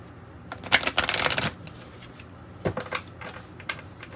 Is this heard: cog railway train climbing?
no